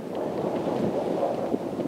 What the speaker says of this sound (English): The wind's blowing. It's perfect for testing that.